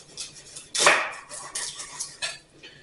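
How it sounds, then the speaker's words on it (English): A knife chops a shallot on a cutting board while escargot is being prepared: a few crisp, close cutting strokes with one louder chop early on, then lighter irregular taps. "let's cut this shallot"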